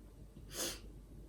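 A single short, wet sniff through a runny nose, close and fairly quiet against a faint background hum.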